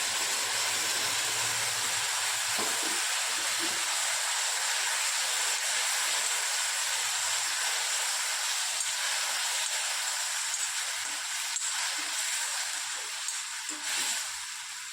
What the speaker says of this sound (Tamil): சாம்பார் இப்போ கொதிச்சிட்ருக்குங்க